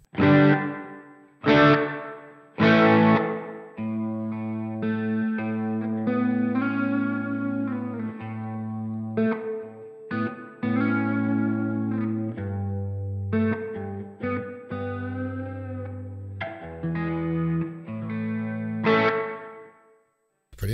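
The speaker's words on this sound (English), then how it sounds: "nice reverb." Distorted electric guitar chords and sustained notes ring out through a Sonicake Matribox 2 stereo reverb, with long, washy reverb tails, played loud and close with brief pauses between phrases.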